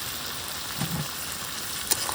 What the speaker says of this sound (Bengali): মাংস কষা হচ্ছে একদম দমদার